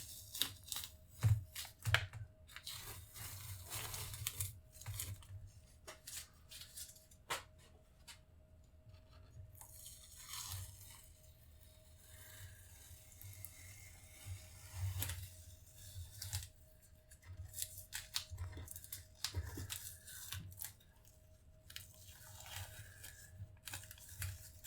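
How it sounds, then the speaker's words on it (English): Masking tape is peeled away from a gestural painted canvas, giving faint scratchy rips and rubbing rustles in irregular bursts, quiet and close, with no talking. "We're going to go ahead and take the tape off and kind of see what it looks like finished."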